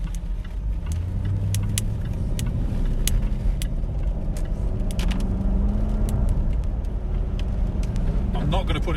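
Jaguar XK 5.0 Portfolio aluminium coupe on the move, a steady low engine and road hum heard from inside the car, with someone talking over it throughout.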